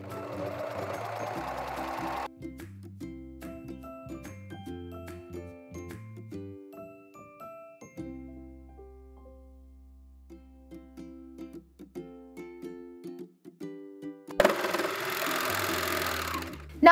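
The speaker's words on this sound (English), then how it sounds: "what we need to do is serge all the edges so that way they're nice and clean finish" Serger overlocking the edges of upcycled vintage skirt and blouse fabric, short rhythmic bursts of mechanical stitching with pauses between runs, close and fairly quiet.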